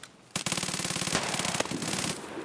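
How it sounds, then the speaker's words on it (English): An enemy in Escape from Tarkov empties a full magazine in long continuous automatic bursts, rapid evenly spaced shots rattling loud and fairly close, briefly pausing between strings of fire, no voices over it. "He's fucking mag dumping, dude."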